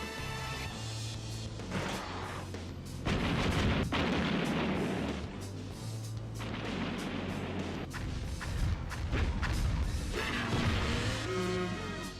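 Gungrave video game boss fight with the Demolition Shot special attack, a sustained barrage of loud booming explosions and heavy gunfire under a low droning game soundtrack.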